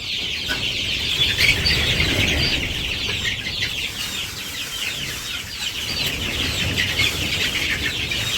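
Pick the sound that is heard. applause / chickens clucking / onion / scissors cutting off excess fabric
chickens clucking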